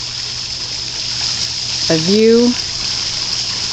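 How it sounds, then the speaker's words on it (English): Water pumped from a garden pond runs into a catch basin pond, giving a steady, fairly loud rushing hiss throughout, with a short spoken remark partway through. "This is our catch basin pond, where the pond water flows to."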